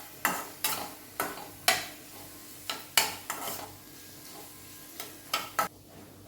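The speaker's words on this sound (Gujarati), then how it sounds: "એની પણ કચાશ દૂર થાય ત્યાં સુધી આપણે એને સાંતળવાનું, એટલે લગભગ એકાદ મિનિટ સુધી" Ginger, chili and garlic paste sautés in a pan for veg matka biryani, with about ten sharp scrape-and-tap strokes of a spoon over a soft, steady sizzle.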